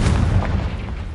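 A fire spell blast from Confringo in the wizarding video game Hogwarts Legacy, a short loud booming burst with a heavy low rumble that fades quickly.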